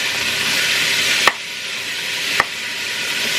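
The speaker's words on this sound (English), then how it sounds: "So I'm gonna get my meat browned up." Ground beef, still a little frozen in the middle, sizzles steadily as it browns in a pan, a constant hiss broken by two sharp utensil knocks.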